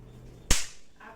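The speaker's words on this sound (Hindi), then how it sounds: "एक दो पटाखे और मार के मैं दिखाती हूँ," A single sharp pop from a small Diwali snap firecracker thrown on the ground, close and loud, with a brief crackling tail dying away in a quiet setting.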